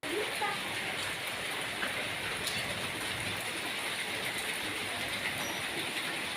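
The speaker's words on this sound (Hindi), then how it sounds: "तेज़ बारिश आई थी।" Heavy rain pours down in the mountains during a sudden downpour, a dense, steady hiss that stays constant and fairly loud across the whole stretch, without breaks or clear voices.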